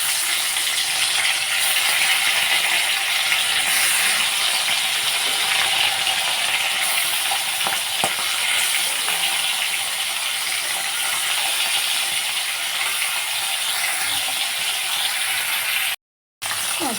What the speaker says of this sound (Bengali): মাছগুলো উল্টা পাল্টা করে ভেজে নিচ্ছি